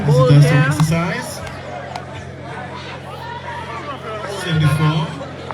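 Crowd chatter at an outdoor T10 softball cricket match at the Resource Center grounds in Dominica, a steady background babble of many voices with a close voice speaking over it.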